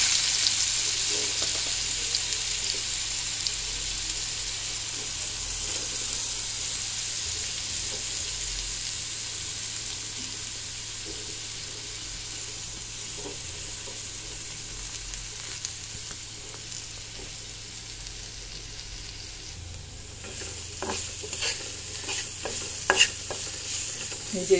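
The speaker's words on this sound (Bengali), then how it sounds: "এবারে গাজরগুলোকে একটু ভেজে নেব" Carrots fry in a pan with a steady, close broadband sizzle and occasional stirring scrapes, growing busier with sharper clicks and pops near the end; no one speaks.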